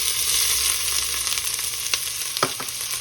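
Chopped onions fry in hot oil for enchiladas, a close, bright, continuous sizzle with a few sharp clatters of stirring near the end, and no talk.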